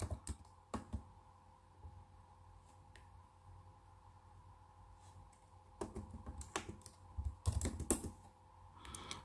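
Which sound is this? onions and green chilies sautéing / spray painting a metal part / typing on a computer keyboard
typing on a computer keyboard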